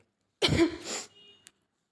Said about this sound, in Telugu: కాఫ్ వస్తుంది